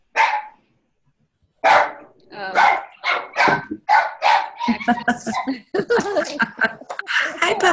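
A pet dog barks at home in a rapid volley of sharp, loud, close barks, pausing briefly and then continuing in quick bursts.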